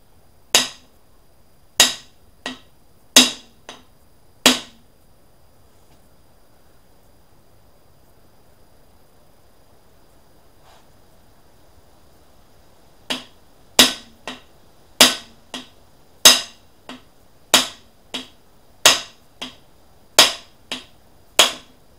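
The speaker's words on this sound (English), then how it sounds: "Take the mallet, tap it through." Mallet taps driving a cam bearing out of an LT1 small-block Chevy engine with a universal cam bearing tool: sharp metallic strikes, five in a cluster, a pause of near silence, then a steady run of about a dozen evenly spaced blows, close and loud.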